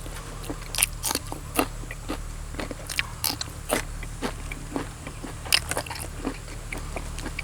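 Close, crisp crunching from chewing apple snail salad with wild olives, with repeated sharp crunches in an uneven rhythm and no talking.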